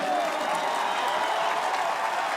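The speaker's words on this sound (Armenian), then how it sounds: "բուռն ծափերով" An audience at a political rally for Armenia's prime minister gives sustained, even applause, a continuous wash of many hands clapping throughout.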